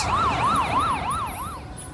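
A police siren wails in a rapid rising-and-falling cycle, loud and close, about four sweeps in quick succession with no talk.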